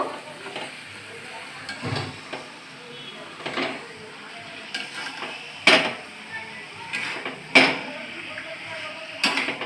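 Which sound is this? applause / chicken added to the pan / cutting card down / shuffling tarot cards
chicken added to the pan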